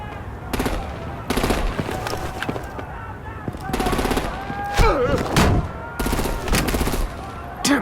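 Gunfire erupts in bursts during a Batman: The Enemy Within firefight, with rapid automatic volleys and heavier blasts coming in several loud clusters separated by brief lulls, alongside voices and other scene sounds.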